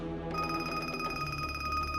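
A telephone rings steadily in a home setting in an Egyptian TV drama scene, a bright continuous electronic ring starting after a brief moment and sounding loud and close, with no talking over it.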